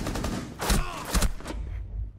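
Rapid bursts of gunfire in a Fortnite match, two or three loud clustered volleys with a short echoing tail, fired through a wall, close and sharp.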